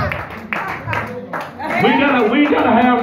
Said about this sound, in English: Let's clap your hands, give God a praise